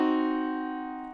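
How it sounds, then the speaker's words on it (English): A single diminished chord sustains and slowly fades, its stacked notes ringing evenly and close, played alone with no talking. "So my guess is that's a diminished chord"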